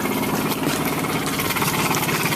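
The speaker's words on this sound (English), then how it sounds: "There's the engine at 2100" A boat engine on an Island Packet 27 sailboat runs at a steady, throbbing 2100 rpm, loud and close, with a constant low rumble and mechanical vibration.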